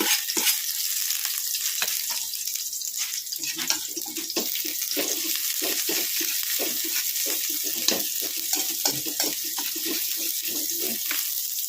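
Onions sizzle and fry steadily in a hot pan for a bean-sprout lumpia filling, with repeated scraping and stirring clicks running over the continuous hiss throughout.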